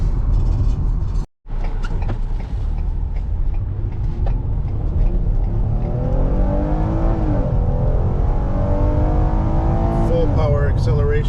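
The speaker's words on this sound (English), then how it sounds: "Power acceleration," A 2015 Ford Explorer police interceptor accelerating hard, the engine note rising steadily in pitch as it pulls through the gears, loud and close inside the cabin, with a brief dropout early on and someone talking over it.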